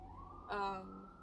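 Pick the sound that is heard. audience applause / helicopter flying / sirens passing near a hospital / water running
sirens passing near a hospital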